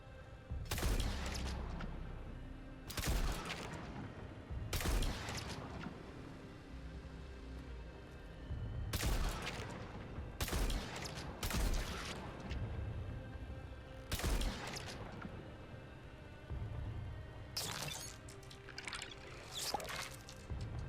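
Weapon fire in the video game Deep Rock Galactic Rogue Core, with loud crackling bursts repeated at irregular intervals over a steady background rumble.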